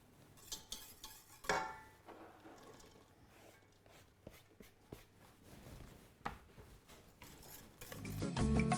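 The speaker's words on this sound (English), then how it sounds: "And we'll stir that into the sauce." Vegetables being stirred into a sauce for a vegetable lasagne, with scattered spoon scrapes and clinks against a pan over a low hum, growing busier and louder toward the end.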